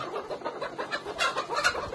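A caged layer hen, about twenty-one weeks old, clucks in short, quick bursts, close and moderately loud, with no voices.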